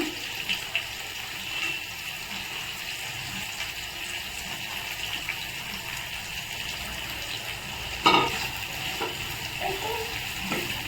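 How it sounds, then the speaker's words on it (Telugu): Onions frying in a pan for upma, a soft continuous sizzle with a few scrapes and a louder clatter of utensil on pan near the end, close by, with no voices. "ఫ్రై చేసేసుకున్నాము ఆనియన్ ఆనియన్ జస్ట్ ఒక ట్రాన్స్పరెంట్ అయ్యేంత వరకు ఫ్రై చేసుకున్నాము"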